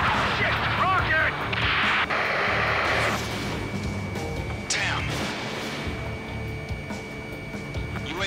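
A rocket explosion in the combat flight game Ace Combat 7 rings out amid a constant, dense barrage of in-game gunfire, blasts and booming rumble.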